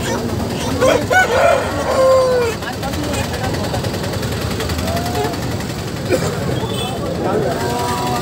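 A rooster crows several times amid a noisy outdoor pet market, with people talking and other fowl clucking in the background.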